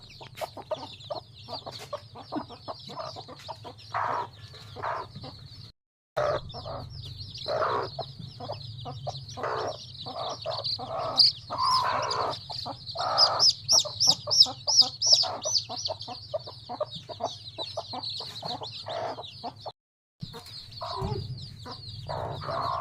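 Chickens clucking close by in repeated short bursts, the clucks growing busier and louder partway through, with steady background hum and brief silent gaps.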